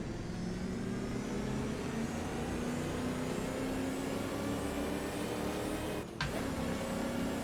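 A 1930s Mercedes race car engine in Assetto Corsa, racing at the Reims circuit, holds a steady, fairly quiet drone throughout, briefly cut by a short dip near the end.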